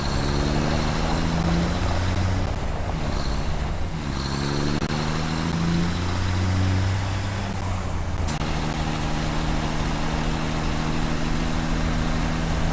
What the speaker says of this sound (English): You gotta watch out with the turning of the truck.